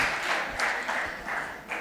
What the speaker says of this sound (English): one more round of applause to our teacher action researchers